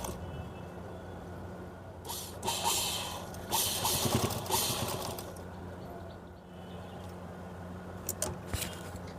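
A sewing machine stitching a collar onto a top runs as a quiet, steady mechanical whirr, growing busier in louder stretches near the middle before settling back.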